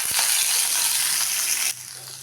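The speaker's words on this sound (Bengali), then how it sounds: "মশলাটাকে আমি 2-3 মিনিট নাড়াচাড়া করে একটু ভেজে নিলাম।" Onion, garlic, ginger, green chilli and cashews fry in hot oil in a pan, giving a loud, steady, dense sizzle that suddenly drops to a quieter, softer hiss near the end.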